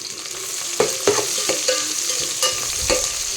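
Chicken pulao with onions and green chillies being stirred in a hot pan, steady close sizzling and frying under a few distinct scraping stirs, with no voices.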